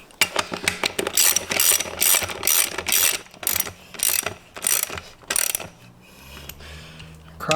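A ratchet clicks in repeated bursts while snugging the bolts on a beadlock wheel ring, a KMC XD231 with Cooper STT Pro tire. The loud, close clicking runs steadily, then a brief low hum follows near the end.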